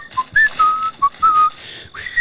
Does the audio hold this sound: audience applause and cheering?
no